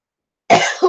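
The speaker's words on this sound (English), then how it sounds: "Excuse me for coughing." A single close, loud cough, a quick harsh burst with a short second catch at the end, after silence.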